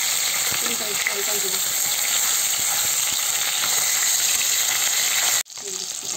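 Fish frying in hot oil until reddish-brown, giving a loud, continuous sizzle with scattered crackles; a person talks over it, and the sizzle drops out abruptly near the end before resuming more softly.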